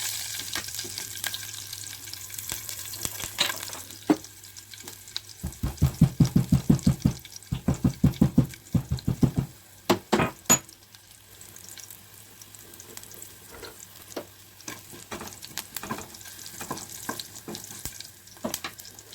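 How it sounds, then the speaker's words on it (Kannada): Green chillies and curry leaves sizzle in hot oil for a tempering, with faint crackling throughout and bursts of loud, close spattering and stirring in the middle. "ಒಗ್ಗರಣೆಯನ್ನು ಹಾಕಿ ಕರಿಬೇವನ್ನು ಹಾಕಿಬಿಟ್ಟು ಹಸಿಮೆಣಸಿನಕಾಯಿ ಫ್ರೈ ಮಾಡಿಕೊಳ್ಳಬೇಕು."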